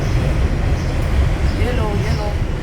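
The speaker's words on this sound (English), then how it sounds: "another train is on out there passing by" A New York 3 line subway train rumbles steadily nearby as another train passes outside, a continuous low roar with faint squeals and people talking underneath.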